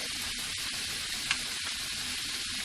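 Shrimp sautéing in olive oil in a pan, a steady soft sizzle throughout with a faint clink near the middle, close and fairly quiet, no talking.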